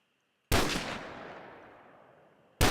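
In modded Minecraft, a gun fires two sharp, loud shots about two seconds apart. The first one has a long reverberant tail that slowly fades, and each shot stands alone with no talking.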